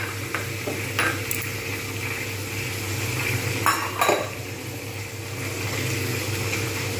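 Soaked chana dal going into a hot pan for khichdi: soft clinks and scrapes of a spoon over a low, steady sizzle, with a brief cluster of sharper knocks midway.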